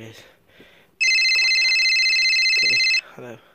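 A phone rings loudly with one steady electronic tone lasting about two seconds, and brief speech is heard just before and after it.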